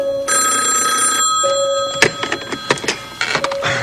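A telephone bell rings in a loud, sustained electric trill, pauses briefly, then rings again before being cut off by handset clatter and rustling, indoors in a residence.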